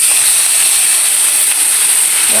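Koi fish frying in hot oil makes a loud, steady, close hiss and sizzle that holds without a break throughout, with no talk.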